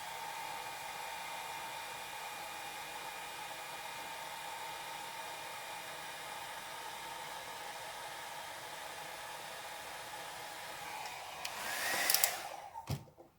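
Hair dryer blowing steadily over an alcohol ink flower painting with a black background, a constant airy whoosh close to the mic that swells louder near the end before a sharp click as it cuts off.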